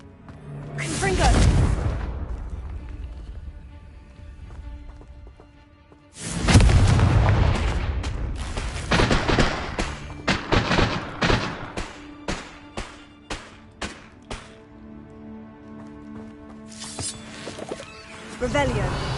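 Loud spell blasts from Confringo in Hogwarts Legacy, booming explosions in a fight against poachers: two heavy bursts, then a rapid run of sharp impacts and a final rumbling blast, with voices calling out between them.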